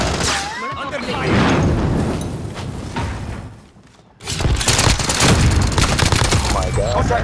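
Video game gunfire during a battle in Plunder mode: bursts of rapid automatic shots and heavy booms, loud and close, with a short lull midway before the firing surges again, mixed with voices.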